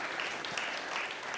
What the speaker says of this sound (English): A round of applause for Noah and the panel.